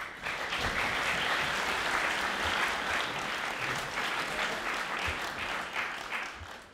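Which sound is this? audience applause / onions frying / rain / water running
audience applause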